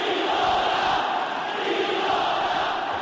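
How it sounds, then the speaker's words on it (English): A boxing arena crowd at an IBF light flyweight bout chants in unison, a dense, loud, sustained roar of many voices rising and falling steadily through the whole stretch. "And here they go with the chants."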